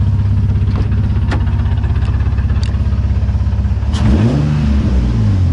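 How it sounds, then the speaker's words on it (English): A Nissan VQ engine swapped into an S13 chassis, running smoothly with no misfire after a coil-pack fix: a loud, steady, even exhaust pulse at idle, then a brief rev near the end before it settles back. "Listen to that beautiful VQ exhaust note"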